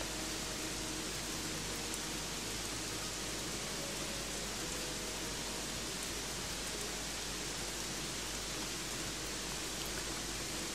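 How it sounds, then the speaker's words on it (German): Steady rain in the video game Gothic 3, a dense, even hiss of downpour that fills the whole stretch with no breaks, alone without any voices. "damit der Regen mal aufhört"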